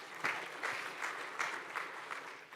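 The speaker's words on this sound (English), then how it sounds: "Go on, round of applause" A live conference audience at a crypto event gives a round of applause. The clapping is moderate and somewhat distant, with loose rhythmic bursts that thin out toward the end.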